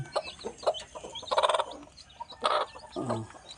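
A hen clucks near a brood of chicks in a farmyard, several short close clucks and soft calls in irregular bursts with quiet gaps between, with high cheeps of chicks mixed in.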